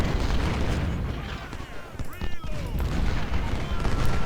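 Artillery cannon fire rumbles through a Civil War battle in Ultimate General: Civil War at the Nansemond River, a dense, continuous barrage of booms and volleys layered under battlefield din, loud and sustained.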